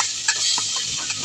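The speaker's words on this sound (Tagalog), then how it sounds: "Gigisa natin yung alamang na yan" Alamang (shrimp paste) sautéing in a pan with onion greens, making a steady, bright sizzle with a few soft stirring scrapes, heard close and alone.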